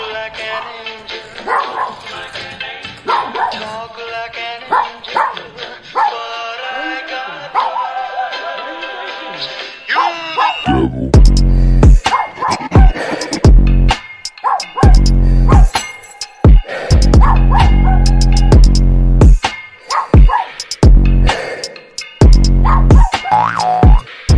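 A dog barks loudly and repeatedly in short bursts through the second half, after a stretch of people talking over background sound.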